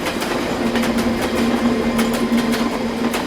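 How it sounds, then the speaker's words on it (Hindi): A train rolls steadily past close by, its wheels clicking in a regular clickety-clack rhythm over a constant rumbling drone, loud and unbroken with no voices. "यहाँ आसपास कोई ट्रेन जाती है?"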